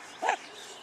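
A dog in protection training, a 15-month-old male, gives one short bark or yelp, brief and moderately close against a quiet background, with no talk during it.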